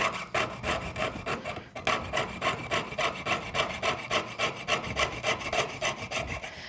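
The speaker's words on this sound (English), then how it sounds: "I'm shifting the metal so that I'm sawing straight. All right, now we can cut." A jeweler's saw cuts through sheet metal in steady back-and-forth strokes, a close, raspy rhythmic sawing that repeats evenly throughout.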